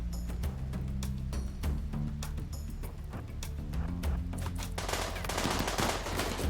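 Automated turrets firing during a RimWorld colony battle, rapid bursts of gunshots in uneven rhythm over a low droning music bed, getting denser and harsher toward the end.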